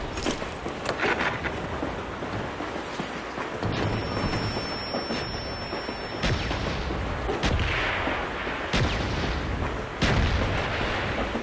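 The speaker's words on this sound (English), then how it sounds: "Friendly mortars inbound." Repeated booming blasts of a mortar strike in Call of Duty Black Ops, several heavy explosions at irregular intervals over a constant background of battle noise, no talk.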